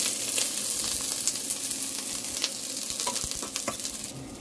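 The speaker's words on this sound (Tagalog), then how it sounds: "Lagyan na natin ang bawang at sibuyas." Garlic and onion sizzle loudly and continuously in a frying pan for pork head adobo, with the crackle of frying oil close and steady and small stirring clicks.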